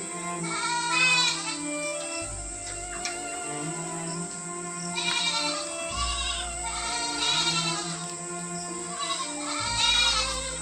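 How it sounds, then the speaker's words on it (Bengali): Several goats bleat during steady rain, with repeated wavering calls that are loud and close, rising over a constant background hiss of rainfall. "ছাগলগুলো কীরকম খেতে আসছে বলো তো।"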